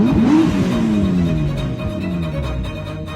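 A car in an animated Hindi horror story revs and pulls away, its engine tone sweeping up, then falling and fading over about three seconds, loud and with no talk over it.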